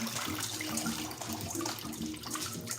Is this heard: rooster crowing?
no